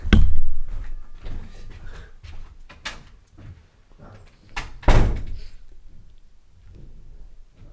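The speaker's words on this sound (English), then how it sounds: "I just shut those doors" Doors are shut indoors during an interview: a loud close thump at the start, then further knocks and a second heavy slam midway, with quieter rattles and bumps between.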